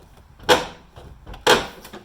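A sagging car door on a vehicle awaiting a head gasket replacement, swung and shut twice, each time a sharp close thunk with a short rattle, about a second apart, near and alone.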